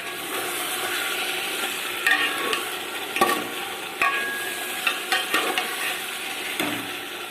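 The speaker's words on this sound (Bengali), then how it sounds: "ধৈর্য ধরে ভালো করে কষতে হবে।" Chicken slowly fries in a pan and is stirred for kosha, giving a soft, continuous sizzle broken by sharp scraping clinks of the spoon against the pan at irregular moments.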